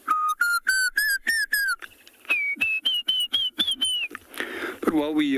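A voice imitates the Diederik cuckoo call with whistles, a run of short rapid notes rising into longer sliding ones, close and clear, ending in a brief burst of voice.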